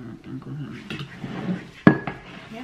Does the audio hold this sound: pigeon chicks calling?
no